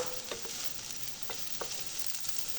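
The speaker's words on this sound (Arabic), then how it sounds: "غادي نخليهم يتشحروا شويه" Sliced carrots sauté in a hot pan for a salad, letting them char slightly: a steady soft sizzle with a few faint clicks and stirring touches, close and alone.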